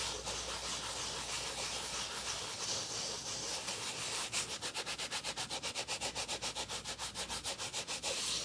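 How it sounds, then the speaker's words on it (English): Continuous close scrubbing and rubbing of a sponge against a surface, shifting into rapid rhythmic back-and-forth strokes, with no voices. "Perfect, that was more like a sponge."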